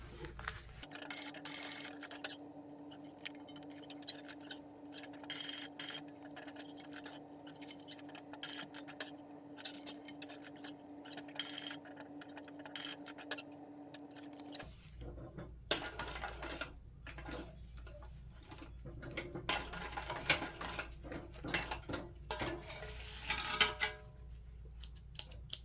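Sewing machine stitching a messenger bag, starting with a steady whirring run, then a stretch of quicker, irregular clicking and tapping stitches, faint and close with no talk.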